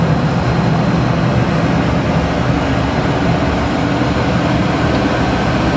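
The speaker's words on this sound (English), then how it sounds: "Nice cold start on the second start because we're using power from the operating engine's generator." A Cessna Citation CJ1+ business jet has its turbofan engines running. A steady, loud broadband roar fills the cabin with no pauses.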